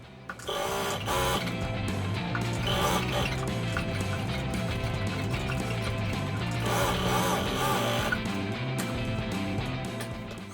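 Leather-covered webbing shoulder straps being sewn onto a handmade backpack by machine, with a steady loud mechanical whirr running almost the whole time in short continuous bursts, close up and with no talking.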